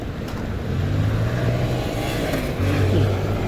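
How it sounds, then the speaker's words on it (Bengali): A motorbike slips through a gap in busy road traffic near an old stadium, its engine note rising close by over a steady roar of cars and passing vehicles, with no talking. "ফাঁক দিয়ে চলে গেল বাইক।"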